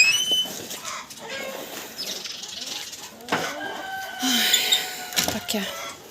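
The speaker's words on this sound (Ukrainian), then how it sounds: "квочка сидить, начебто все добре" Broody hen sitting on a clutch of eggs in a farmyard, letting out soft intermittent clucks and low murmurs, with a few louder squawks and some wing rustling, while a person talks nearby.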